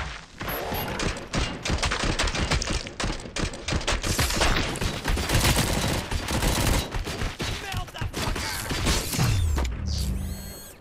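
Sustained gunfire from the video game RoboCop Rogue City, dense rapid bursts of shots over mechanical clatter for most of the stretch, loud and close, with a deep rumble near the end and no talk.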